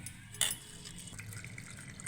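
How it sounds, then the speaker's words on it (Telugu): Water trickles and splashes softly into a bowl of washed dal, with a brief brighter splash near the start, close by and fairly quiet. "నీళ్ళు పోసి పెడదాం"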